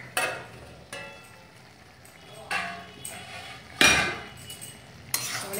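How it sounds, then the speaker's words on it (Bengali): A lid lifted off a pot of tomatoes softening for Bengali sweet chutney: a series of sharp metallic clanks and clinks spaced a second or so apart, close and moderately quiet, with near silence between hits. "এবার ঢাকা খুলে দেখে নিচ্ছি কতটা নরম হলো টমেটো"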